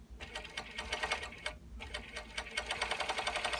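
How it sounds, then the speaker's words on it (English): A serger runs steadily, stitching fabric for DIY spaghetti straps: a close, loud, rapid mechanical chatter with one brief pause midway, then a quicker run. "So I'm just going to start sewing."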